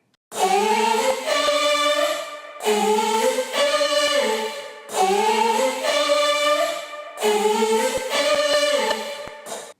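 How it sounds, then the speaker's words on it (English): A sung lead vocal line from an electronic drop, pitch-corrected with auto-tune and treated with distortion and reverb, repeats in four loud sustained phrases with stepped pitch changes and brief gaps between them. "put some distortion and some reverb on it"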